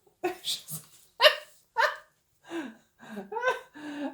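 Dog barking nearby indoors, a run of short sharp barks in uneven bursts, several in quick succession, moderately loud with no talk over them.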